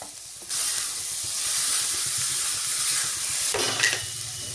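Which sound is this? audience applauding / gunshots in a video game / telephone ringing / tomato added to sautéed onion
tomato added to sautéed onion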